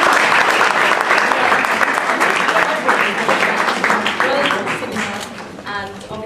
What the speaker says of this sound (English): can you all give her one more round of applause?